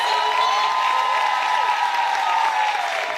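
A crowd applauding steadily at a women's comedy show in Gabon, a dense, continuous patter of clapping from a sizable audience, with a faint tonal sound running underneath.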